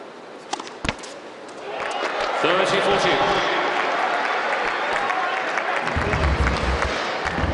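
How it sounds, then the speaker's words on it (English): A crowd at an exhibition tennis match in Delhi bursts into loud cheering and applause after a point, swelling after a few sharp ball hits and sustained for several seconds, with voices mixed in. "each and every point that Federer and the Aces win today will be greeted by a loud cheer"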